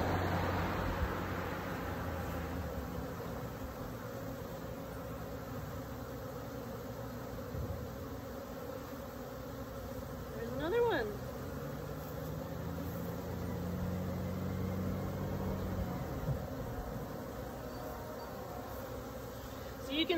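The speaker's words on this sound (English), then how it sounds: "there's a few more bees flying around. They are feeling good and disturbed now." Honey bees flying around an opened hive while a beekeeper works down into the third box, a faint continuous buzzing drone with occasional closer bees passing by, steady throughout the twenty seconds.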